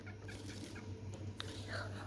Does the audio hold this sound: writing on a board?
no